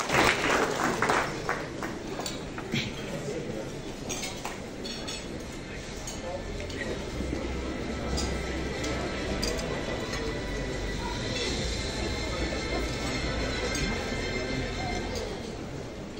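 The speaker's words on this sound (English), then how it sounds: "Please give him a round of applause." An audience at a rugby hall of fame evening applauds: a dense, sustained clapping, loudest at the start and holding steady throughout, with scattered clinks of glasses and dishes in the hall.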